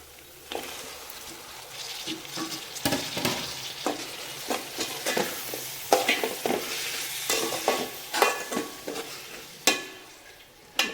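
Onion and tomato sauté in a pan, with a steady sizzle under repeated, irregular spatula scrapes and clinks against the metal. It is close and fairly loud, with no talking.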